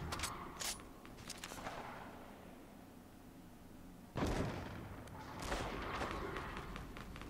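Gunfire and explosive blasts in the Fortnite Battle Royale video game: scattered sharp shots early on, then a loud burst around the middle followed by further heavy firing, with no talk over it.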